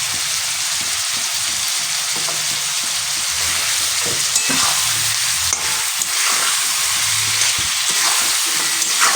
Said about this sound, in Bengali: একটুখানি ভেজে নেবে, 2-4 মিনিট ভেজে নেবে